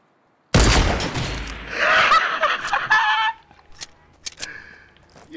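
A sniper rifle in the video game Fortnite fires one loud, sudden crack that rolls on for a few seconds, followed by scattered sharp game noises and brief laughter-like sounds.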